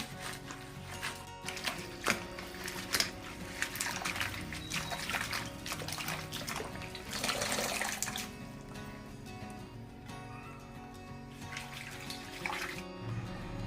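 Water sloshes and splashes as fenugreek leaves are swished and rinsed in a basin, with irregular bursts of dripping and handling noises.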